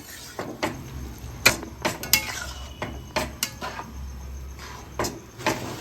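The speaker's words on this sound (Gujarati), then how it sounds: "હવે આપણે બધું જ મિક્સ કરી દઈશું" A spoon stirring carrot halwa cooked in milk in a metal pan, giving repeated scraping knocks and clinks at an irregular rhythm, close and fairly quiet, with no talk.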